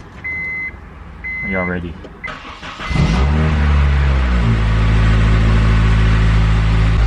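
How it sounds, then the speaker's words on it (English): An Acura RSX with a K20 engine, just fitted with a new timing chain, cranks and catches after a few reversing-style beeps, then settles into a loud, steady idle close by as a person briefly talks beforehand. "You guys do not know how nervous I am about starting this car."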